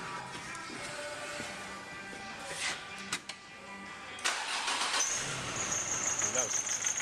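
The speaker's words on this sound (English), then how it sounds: "Right, now that engine should start." A 2008 Nissan Navara D40 diesel engine cranks and catches, then settles into a rough, uneven idle from a cylinder misfire, heard up close with a person talking over the running engine.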